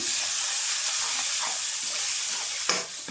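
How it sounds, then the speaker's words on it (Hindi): Masala fries in a kadhai with a loud, steady close sizzle and hiss, broken near the end by one brief clatter as the spoon knocks the pan. "तो ये मसाला भी भुन के तैयार है"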